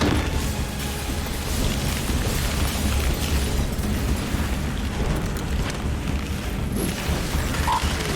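A frag grenade blast in Gears 5 within a loud, continuous rumbling battle roar that stays dense and steady throughout, with a few faint metallic clicks on top.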